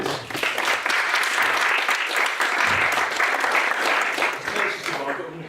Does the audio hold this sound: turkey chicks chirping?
no